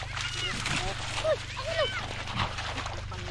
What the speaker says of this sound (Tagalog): Naglalaro mga aso